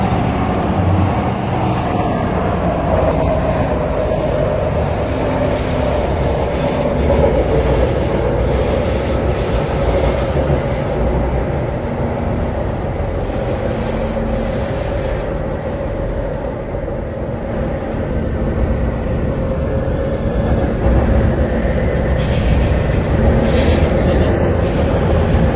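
An MTR Tseung Kwan O line C-Train runs on rails in Hong Kong between Po Lam and North Point. Steady, loud interior rumble with wheel squeal and rhythmic clicks over track joints, continuous throughout with no clear talk.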